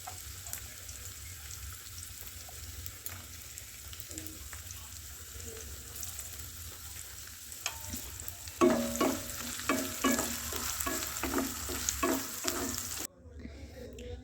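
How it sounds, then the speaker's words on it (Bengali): Mixed vegetables fry together in plenty of oil in a wok for spicy pasta, a steady sizzle with a louder burst of clattering stirring and spattering near the end before cutting off. "কড়াতে আমি বেশি করে তেল দিয়ে দিয়েছি। দিয়ে আর সব রকম সবজি আমি একসাথে ভেজে নিচ্ছি"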